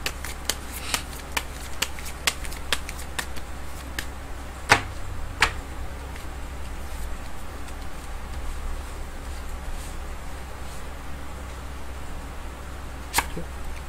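Tarot cards shuffled during a daily horoscope fortune-telling reading, a steady run of crisp, close riffling clicks and flicks that grow sparser, with no talking.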